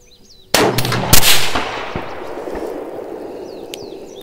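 One sharp, loud rifle shot firing a Callaway Ballistics 77-grain Sierra round outdoors, a sudden crack followed by a quick second report and a long rolling echo that fades slowly.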